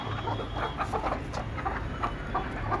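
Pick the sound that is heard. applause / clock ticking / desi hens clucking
desi hens clucking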